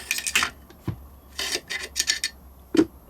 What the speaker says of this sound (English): We're going to push out our takedown pin, bring out our bolt and bolt carrier.